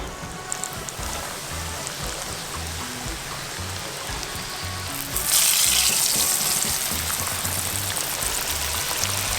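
Crispy fried chicken frying in a pan outdoors in Jamaica, a steady dense crackling sizzle throughout that grows noticeably louder and brighter about halfway through, with no talking.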